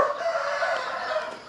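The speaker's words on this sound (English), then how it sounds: "Little native chickens." Native Filipino rooster crowing nearby, a sustained, strained cock-a-doodle-doo call that holds steady across the whole moment with faint rural background behind it.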